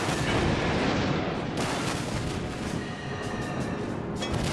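Heavy warship guns firing in the naval combat game World of Warships, with a loud rumbling boom and sharp new blasts at about one and a half and four and a half seconds over continuous battle noise.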